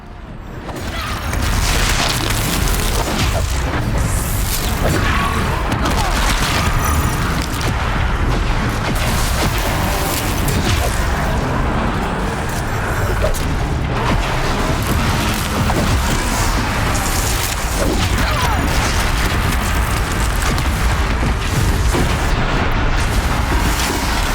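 Machine enemy in Horizon Zero Dawn firing a barrage of missiles, with dense repeated blasts, booms and mechanical clatter piling up continuously and loudly, with no talking.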